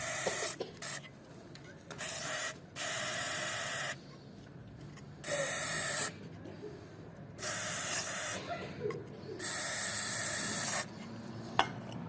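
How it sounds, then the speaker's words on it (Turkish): Oil sprays in repeated short hissing bursts of about a second each, separated by brief pauses, through the rear openings of a car engine being serviced for squealing and metal-rubbing noises. "Şu arkadaki boşluklardan motorumuza yağ basıyoruz."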